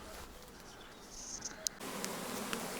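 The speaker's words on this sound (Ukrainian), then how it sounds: "Тут вже нема нікого, вернувся назад рій" A swarm of Carpathian honey bees at an apiary, the hive frames packed with bees, gives off a steady, diffuse buzzing hum at low volume, with a sharp click partway through and the drone growing slightly fuller near the end, no voices.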